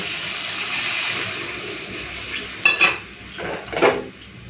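Water poured into a simmering potato and paneer curry in a pan, a steady rushing pour followed by a few short splashy bursts and scrapes near the end, close and fairly loud with no talking.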